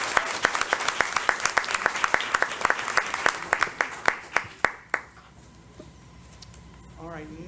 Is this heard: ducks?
no